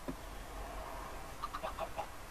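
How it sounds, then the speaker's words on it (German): A few soft chicken clucks from the Minecraft video game, brief chirpy calls over a steady background hum, fairly faint and close together near the end. "Da haben wir Hühner."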